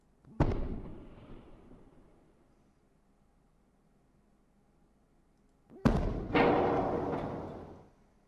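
Two heavy booming blasts from the Bismarck battleship's main guns in a naval video game, each a sharp loud report followed by a long rumbling decay, spaced several seconds apart.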